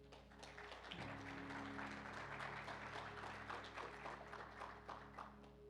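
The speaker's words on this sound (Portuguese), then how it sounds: "Se você crê, aplauda Jesus bem forte." A church congregation applauds at a worship service, a dense, steady wash of clapping that holds from start to finish, with a low musical drone underneath.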